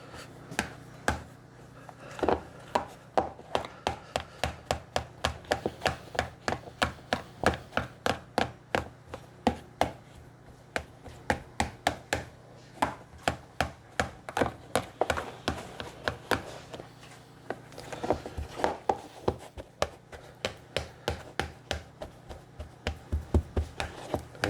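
Boiled egg yolks are mashed in a small bowl for deviled eggs, giving a long series of quick, regular taps and knocks of utensil against bowl, close and fairly crisp.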